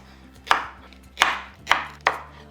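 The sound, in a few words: chopping green plantain with knife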